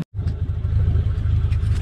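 A Geo Tracker driving off-road over a patch of white soil, its engine a steady low rumble that sets in right after a brief silent gap and runs on close and loud, with small bumps and rattles.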